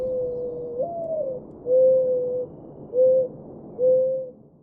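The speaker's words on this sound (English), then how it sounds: "your ears start to perceive the sound of the mourning dove once again" A mourning dove calls alone, one long rising coo followed by three shorter, steady coos, soft and fairly close in a quiet setting.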